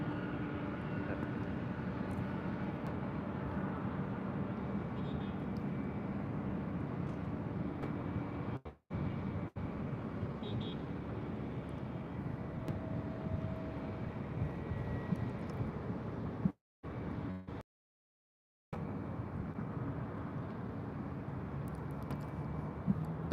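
A Delta heavy airliner takes off from runway 24 left at LAX, its engines a steady, broad roar heard from a distance, with brief dropouts partway through.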